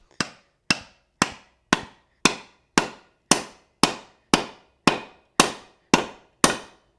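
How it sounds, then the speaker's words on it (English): A hammer drives a wedge into the eye of a Craftsman boy's axe head, with thirteen sharp, evenly spaced strikes at close range, each ringing briefly before the next. "I'm hitting with the same amount of force on it, but but the tone is changing as that wedge sits down"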